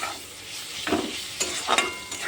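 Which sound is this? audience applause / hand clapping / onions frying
onions frying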